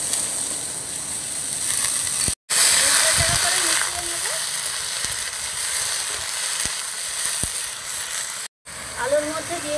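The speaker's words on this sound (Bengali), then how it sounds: "এবার দিয়ে দিচ্ছি গ্রেট করে রাখা আলু।" Grated potato dropped into hot oil already sizzling with whole cumin seeds gives a steady, fairly loud frying hiss with a few clicks of stirring and two brief cut-outs.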